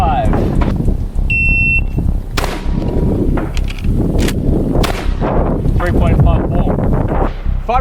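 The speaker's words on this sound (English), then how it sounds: "5 rounds of the shotgun, on the steel plate, on the move, from the buzzer" A shot timer buzzer sounds once, then shotgun blasts crack with metallic rings on a steel plate as the shooter moves, loud and close, among outdoor wind noise.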